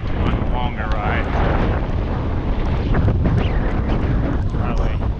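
Strong wind buffets an outdoor microphone on a wet day, a loud, continuous low rumble and roar. Someone talks throughout, partly masked by the gusts.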